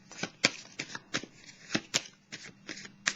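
Belline tarot cards are shuffled and riffled in short crisp bursts, about a dozen quick papery flutters and slaps close up in an uneven rhythm, with no talking over them.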